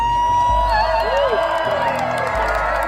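A crowd at Burning Man lets out a loud cheer with whoops and shouts over a busy outdoor din, with voices mixed into the noise.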